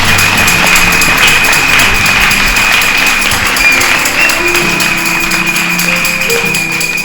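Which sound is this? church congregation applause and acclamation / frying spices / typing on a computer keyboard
church congregation applause and acclamation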